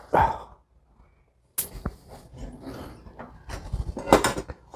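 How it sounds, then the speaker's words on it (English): Metal utensils clinking and rattling as a knife is rummaged for among kitchen tools, irregular nearby clatters and scrapes with a short quiet pause early on. "let me get my other knife"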